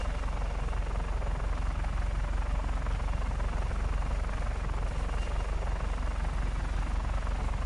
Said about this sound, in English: Should have probably brought a slower helicopter.